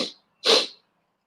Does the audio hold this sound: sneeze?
yes